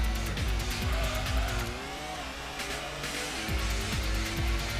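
Toyota Celica race car in the PS1 game Gran Turismo, engine droning steadily at speed with repeated gear-shift dips and brief tire squeals, loud and continuous with no talking.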